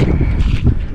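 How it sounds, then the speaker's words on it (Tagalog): Strong seaside wind buffets the microphone in a loud, continuous low rumble with gusting swells. "Medyo malakas na ngayon yung hangin"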